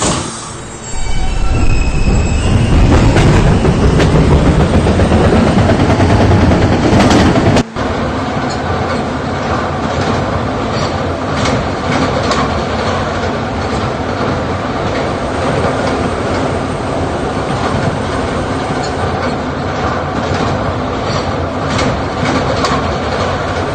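An R160B B subway train on the move, carried through by a loud steady rumble of wheels on rail with rhythmic clicking, shrill squealing early on as it moves off, heard from on board.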